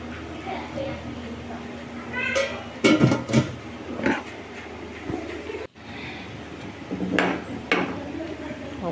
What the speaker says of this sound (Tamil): இப்போ தம் போட்டுடலாம். இப்போ மூடி போட்டு